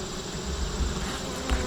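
Honey bees buzz steadily at an open beehive during a frame change with smoke being puffed, a close, continuous drone with a brief louder swell near the end.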